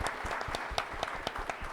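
Applause from an audience at an event held at an academy, a dense run of close hand claps with a few sharper peaks, heard alone without talk.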